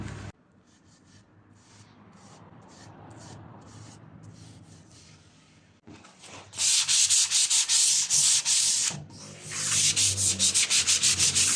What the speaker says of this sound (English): I will sand it with fine sandpaper